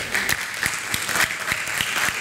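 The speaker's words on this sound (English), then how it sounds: "Round of applause if you think the second one was the best one." A game-conference audience claps in a short round of applause to vote for a pitch. The clapping is steady and fairly loud, with a few sharper individual claps standing out.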